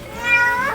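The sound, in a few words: cat meowing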